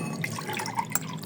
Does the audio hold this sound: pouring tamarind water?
yes